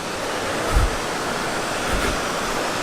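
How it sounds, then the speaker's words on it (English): Algar Falls, a waterfall feeding a channel and aqueduct, roars as a loud, steady broadband rush of falling water, continuous and close, with no voices over it. "the main fall is just here, and then it runs down this bit here"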